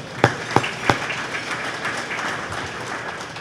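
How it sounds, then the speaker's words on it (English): Scattered applause from an audience at a city State of the City address, a few sharp claps up front followed by a soft, thin patter of clapping that fades into room noise. "So let's give them a round of applause."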